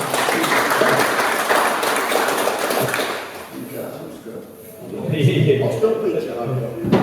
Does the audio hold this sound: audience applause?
yes